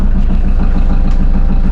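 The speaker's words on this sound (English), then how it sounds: "And you can hear just how loud the engine is." Inboard engine of a 1936 power boat idling just under 900 RPM, a loud, close, steady low rumble with an even chugging pulse and mechanical clatter, heard alone.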